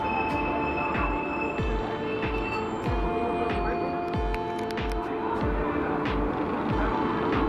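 The Itwari–Bilaspur Intercity SF Express rolls out of Bhatapara station, steady wheel rumble with a regular clack of rail joints and intermittent high wheel squeal, loud and close from inside the train, with a voice now and then.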